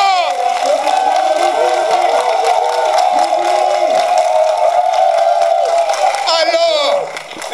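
A May Day street protest crowd of CSTB demonstrators cheers and applauds, a loud, steady din of many voices with clapping running unbroken throughout before thinning at the end.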